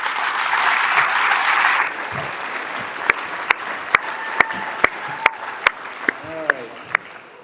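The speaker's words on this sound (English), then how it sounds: "So give them a round of applause." An audience at a basketball team banquet applauds loudly in a dense burst lasting about two seconds. The clapping then thins into a few scattered, distinct claps while a voice speaks softly underneath.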